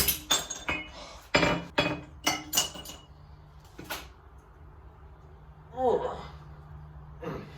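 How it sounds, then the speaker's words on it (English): A small piece of metal being snapped off at its end while making tiny tools, heard as a cluster of sharp, close metallic clinks and cracks followed by quieter handling clicks. "So I'm just gonna cut this off now, out there, and just snap the end off."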